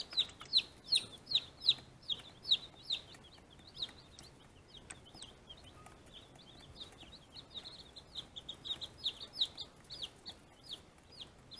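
Young guinea keets huddled under a red heat lamp, giving a steady chorus of high, shrill peeps that rise and fall in quick bursts, close and fairly loud, with brief quieter gaps between.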